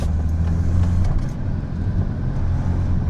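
An Audi 80 car engine running nearby, a steady low rumbling drone that holds roughly even throughout with slight swells, close and loud, no talk.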